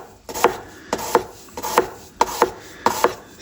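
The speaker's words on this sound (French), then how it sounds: "On l'émince tout finement." A sharp knife finely slices an onion on a cutting board, with five crisp, evenly spaced cuts, each a close, woody chop.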